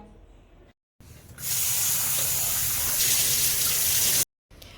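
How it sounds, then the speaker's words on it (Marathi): Raw chicken being rinsed under clean tap water in a kitchen, a strong continuous splashing gush that starts after a brief gap, runs for several seconds, then cuts off abruptly. "हे चिकन आपण 3दा चांगलं स्वच्छ पाण्याने धुवून घेऊया"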